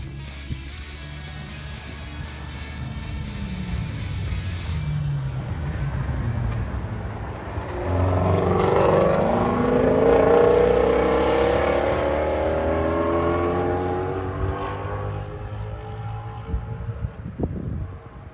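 A Ford GT350 runs down the race track at Sebring, its engine note building as it approaches, peaking in a loud pass, then fading away into the distance.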